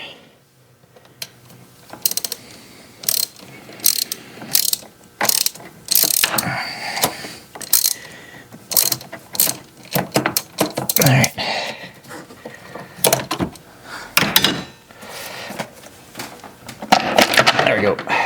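A ratchet is worked in short bursts of close, crisp clicking to loosen the air intake clamp at the throttle body of a 2011 Ford Fiesta, with brief quiet pauses between strokes.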